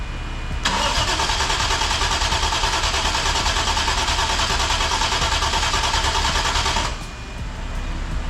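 A Toyota 1JZ-GTE engine swapped into a BMW E90 cranks without starting: a loud, continuous, even-paced starter whir lasting about six seconds, then stopping, with no catch or idle afterward.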